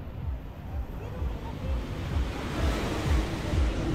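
Ocean waves break and wash onto the sand-starved beach at Playa del Carmen, a continuous roaring surf with rhythmic low surges and some wind noise, close to the water's edge.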